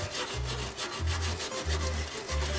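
Heated, hardened gasket material is scraped off Renault 4L body parts in steady repeated strokes, a rough, rhythmic rasping that stays close and fairly loud with no voices.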